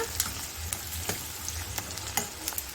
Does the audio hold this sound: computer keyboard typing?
no